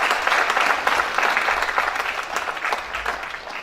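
An audience at a music awards ceremony applauding, a dense, steady wash of many hands clapping that holds for several seconds and eases slightly toward the end, loud and indoors.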